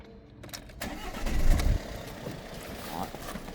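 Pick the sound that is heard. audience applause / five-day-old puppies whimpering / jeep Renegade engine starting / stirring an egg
jeep Renegade engine starting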